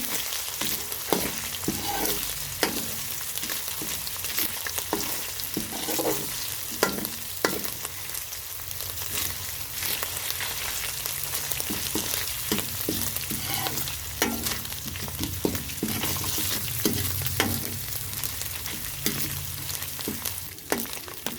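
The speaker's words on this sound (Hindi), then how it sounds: "थोड़ा सा से भूनेंगे ताकि इसकी खुशबू निकले।" Spices roast in a pan for Lahori chicken, a continuous close sizzle and frying hiss with repeated scraping strokes of a stirring spoon throughout.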